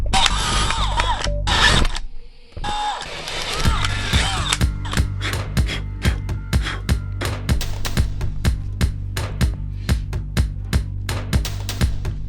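A hand drill drives fasteners to mount a power inverter onto a wooden board for a van power rack, heard as steady repeated clicking, ratcheting bursts close by, with a brief pause early on.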